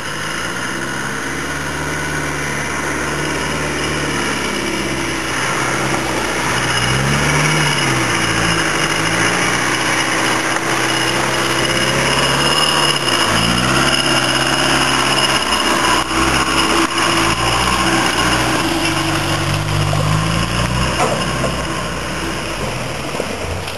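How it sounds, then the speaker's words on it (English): A Toyota off-road vehicle pushes through deep, serious mud on a track near Tikal, Guatemala, its engine droning steadily and rising in loud, labouring surges for about twenty seconds, with no talk. "here comes Yoko in his Toyota, in the serious mud"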